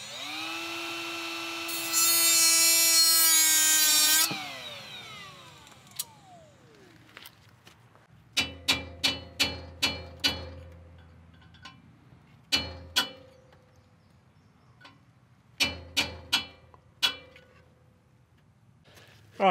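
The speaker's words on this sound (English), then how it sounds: "I'm gonna take the cutoff wheel and cut a groove in what's left of the nut, take a punch and a hammer and crack the nut" A cutoff wheel whines loudly as it grinds a groove into a rusted nut on a Duramax LLY down pipe V-band clamp, spinning down, followed by a series of sharp metallic hammer strikes on a punch in uneven clusters.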